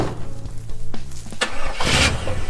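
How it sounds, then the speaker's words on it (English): A 1956 Chevy Bel Air barn find pulling away after being shifted into drive, its engine rumbling up close with a sharp mechanical clunk and a rising surge of noise near the end. "I just shifted into drive, so we're gonna see if we can do a little loop."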